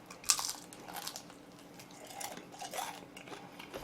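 Close crunching bites of crispy oven-baked chicken during a Korean eating show, with one sharp crunch early on and softer intermittent chewing and crackling after it, in a quiet room.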